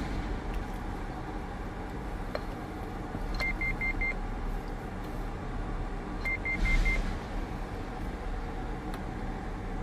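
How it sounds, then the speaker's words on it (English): Anytone Quad 6 CB radio sounding two short roger beep tone sequences, each a quick run of four electronic beeps, moderately clear over a steady background hiss. "This has 5 Roger beeps."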